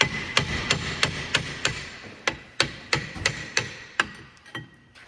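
Repeated hammer strikes on a rusted brake disc of a 2010-2016 Cadillac SRX, about a dozen sharp metallic blows at an uneven pace, close and loud with ringing decay, no talking.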